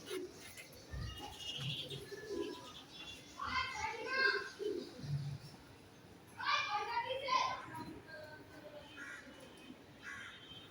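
Budapest pigeons coo in several soft, low bursts close by, mixed with other bird calls and a person talking.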